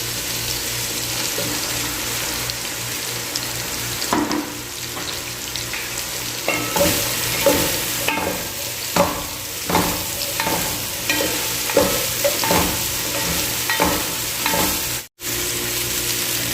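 Carrots and cabbage stir-fried for pancit canton guisado, with a steady loud sizzle throughout and repeated scraping clatters of a spatula tossing the vegetables in the pan.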